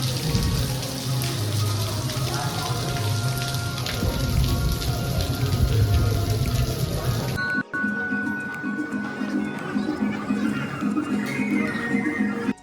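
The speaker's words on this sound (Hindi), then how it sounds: "सुबह से चल रही रिमझिम बारिश बहुत तेज़ हो जाती है" Heavy monsoon rain pours onto surfaces at a Hindu temple in Pandharpur, a dense, loud roar of drops that shifts to a thinner pattering with distinct drips after a brief cut.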